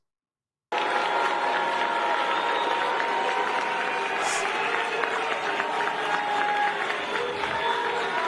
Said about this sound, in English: they kind of nearly booed her off the stage